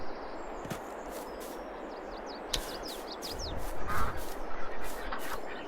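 Ducks of mixed colours, shapes and sizes, young and old, in a pen on a farming video game, giving several short quacks and calls over a steady ambient bed, with a denser burst of calls near the end.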